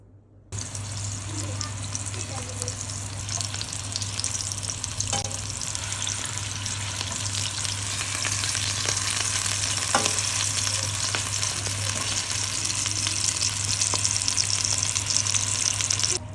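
Hamburger sauce of soy sauce, ketchup and bulldog sauce with butter and mushrooms sizzles steadily in a pan, a loud continuous hiss with occasional faint clicks and no voices.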